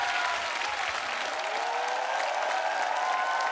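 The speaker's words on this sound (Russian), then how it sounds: "Ну что ж, Егор, наши аплодисменты, мы прощаемся с вами." Steady, dense applause from a television show audience, loud and continuous throughout, with a crowd-like wash of clapping.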